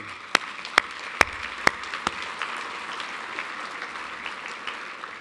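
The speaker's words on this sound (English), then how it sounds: "I think that deserves a round of applause, too." Audience applause at a regional planning council's 2015 State of the Region event, a steady wash of clapping from a crowd with a few sharp, close individual claps near the start, continuing evenly without talk.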